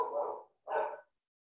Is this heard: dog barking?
yes